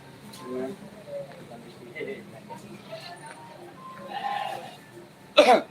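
Goats bleating at a goat seller's, several short wavering calls scattered near and at a distance, with people talking throughout.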